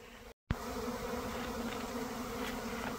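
A swarm of bees at a beehive in tall grass makes a dense, steady buzzing hum, close and loud, broken only by a brief cutout near the start, with no voices.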